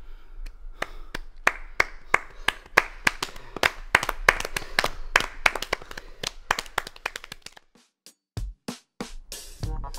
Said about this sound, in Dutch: En dan het zoet geluid van applaus.